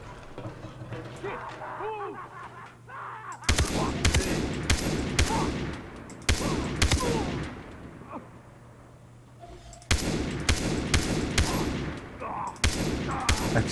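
Bursts of automatic gunfire in Far Cry 3 erupt in loud, rapid volleys at intervals, separated by quieter stretches with faint background sound and a low hum.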